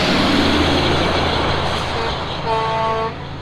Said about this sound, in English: But just a sec, we got a truck.